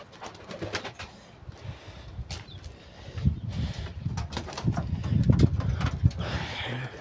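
Pigeons come down to land on a rainy day, with brisk wing flaps and fluttering bursts over soft, low cooing that grows fuller toward the end, heard nearby with no talking.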